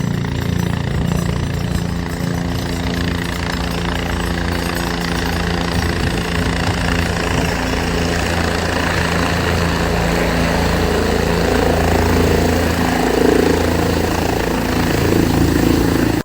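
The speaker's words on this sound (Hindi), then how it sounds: "ये सामने हेलीकॉप्टर जो कि हमारे सामने ही लैंड होगा थोड़ी देर में।" A helicopter approaching to land at the Kedarnath helipad gives a loud, steady drone of rotor and engine that holds for the whole stretch, with no talking.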